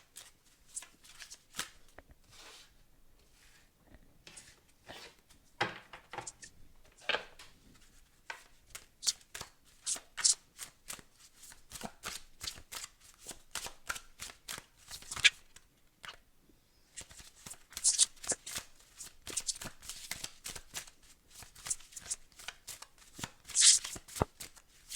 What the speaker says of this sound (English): I just want to pull an oracle card from the dream interpretation deck